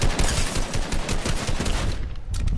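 Heavy, continuous gunfire from an online shooter game, dense overlapping shots with sniper fire mixed in, loud and close throughout with no talk.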